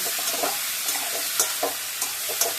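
Potatoes and onions fry in a pan with a steady sizzle, while a spatula stirs them in a rhythmic series of soft scrapes close by.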